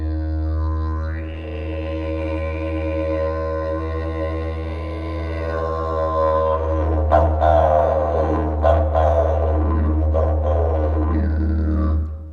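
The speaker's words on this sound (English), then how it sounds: "on top of the drone, we're using tongue techniques, but as Sean was mentioning, we've got vocal techniques" A didgeridoo holds a steady low drone throughout, the player shifting into tongue techniques and then layering vocal sounds over it, giving shifting overtones and several sharp accented bursts in the second half, close and continuous.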